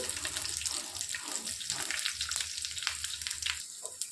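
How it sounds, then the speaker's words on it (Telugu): Garlic frying in a pan for a gongura curry, a steady close sizzle with crackles and small pops running the whole time, no talking. "ఇందులోనికి వెల్లుల్లిపాయలు వేసేసుకోవాలి"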